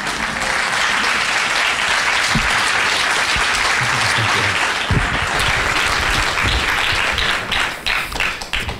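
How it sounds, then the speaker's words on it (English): An audience at a Bay Area public policy talk gives steady, full applause, a dense wash of many hands clapping together that tapers off at the very end. "Give him another round of applause, please."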